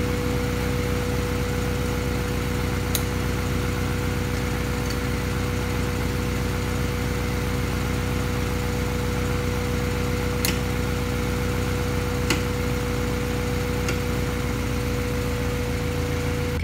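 A Honda Civic engine idles steadily, a constant low hum with a fixed whine on top, being warmed up to operating temperature before ignition timing adjustment; a few faint clicks break in now and then, and no one speaks.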